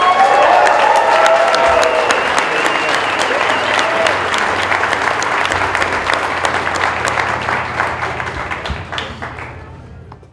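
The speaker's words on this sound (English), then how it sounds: "Another round of applause for Jordan Page." An audience at PorcFest breaks into loud, sustained applause with scattered cheers, a dense wash of clapping that carries on for several seconds before thinning out and fading.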